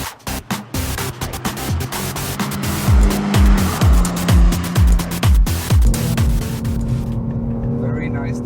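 A car corners hard on Nankang CR-S semislick tires, engine roaring near and loud with rhythmic pulsing and rising revs, tire noise swelling through the turn before cutting off abruptly.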